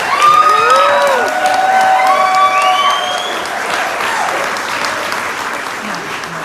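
Wedding guests applaud for Brett and Lindsay with sustained clapping, whoops and cheers, while voices call out over the crowd.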